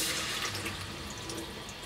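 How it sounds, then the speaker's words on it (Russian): Cold tap water runs hard over a freshly heated homemade feeder cage for carp fishing, a steady close broadband splashing rush under the faucet with no talk. "быстро-быстро под холодную воду, под кран это дело."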